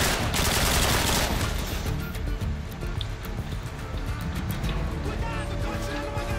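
Rapid gunfire in Modern Warfare 2 Special Ops, a loud opening burst followed by clustered shots and clatter, with a person talking over it.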